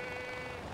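Sheep bleating in the video game Far Cry 4, a steady sustained bleat with harmonic tone lasting under a second, fairly loud and alone with no talk over it.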